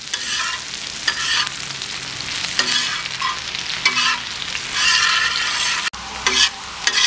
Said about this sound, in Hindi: तो ये प्याज यहाँ पर दोस्तों अच्छी तरीके से भून लिया हमने